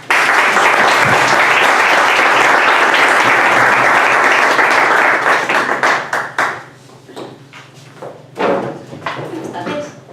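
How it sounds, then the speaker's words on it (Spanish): An audience at a book presentation in Café Libertad 8 in Spain gives loud, dense applause that holds steady, then breaks into scattered individual claps and thumps as it dies away, with voices mixing in near the end. "Y por eso os pido un aplauso para recibirlas."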